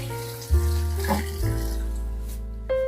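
Water pouring steadily from a container into a pot of chicken for Normandy chicken, a continuous splashing gush lasting a few seconds with a brief louder surge near the end, close and alone.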